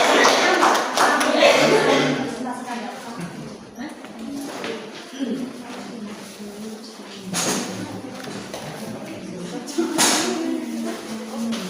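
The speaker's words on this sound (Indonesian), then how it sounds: "Aplaus buat Mbak Nilu dari" Applause for a student teacher during a micro-teaching practice lesson on repentance, a steady patter of hand claps from a small group that rises and falls, mixed with voices.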